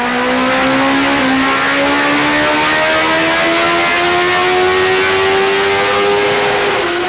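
A 2001 Suzuki GSX-R1000 sport bike revs hard on a dyno in fourth gear, its engine note climbing steadily toward 12,500 RPM, loud and close with no talk.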